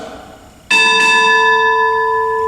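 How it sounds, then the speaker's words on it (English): A ship's bell is struck twice in quick succession during a naval military retirement ceremony, ringing loud and near with a long, bright sustained decay. "Bosun, 2 bells."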